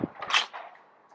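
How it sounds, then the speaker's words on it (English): A door is opened in a home, giving a short close-up clatter of latch and hinge with a couple of quick knocks over about a second. "Now, as I open the door,"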